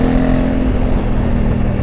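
A 2020 Honda Africa Twin 1100 adventure motorcycle accelerates hard with a loud, close, steady engine roar, its pitch shifting slightly as it pulls through the revs, with no talk.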